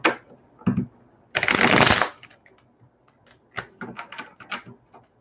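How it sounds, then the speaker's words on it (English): Tarot cards are riffled in a loud close shuffle burst, then a quicker flutter, followed by a scattered series of light snaps and slaps as single cards are drawn and laid down on a table, with no speech. "I will pull 9 cards and read the cards as they come out."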